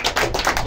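Students in a class clap for a classmate, a short, close run of sharp, quick hand claps at fairly loud level, with no voices over them.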